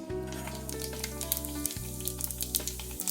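Mustard seeds and cumin crackling in hot oil for chana dal jhunka, with sharp scattered pops over a continuous sizzle and a steady low kitchen hum throughout.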